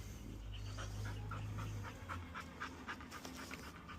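A female dog pants in quick, steady rhythmic breaths close by, with a low droning hum underneath during the first couple of seconds.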